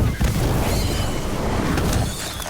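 Incendio fire spell cast in the video game Harry Potter Magic Awakened, a loud, close whooshing burst of flame that roars steadily and then eases off slightly at the end.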